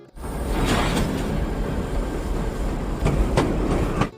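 A train in an Indian film rolls along the rails with a loud, continuous rumble and a few sharp metallic knocks near the end, with no speech.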